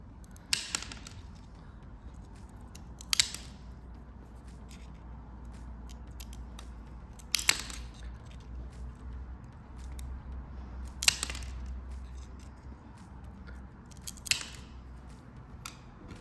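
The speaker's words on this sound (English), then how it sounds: "place the tile against the edge of the soon-to-be petal and cut away the bit of the tile that I don't want" Mosaic tile being cut into a petal shape with a cutter blade gives about six sharp, close snaps spaced a few seconds apart over a quiet background.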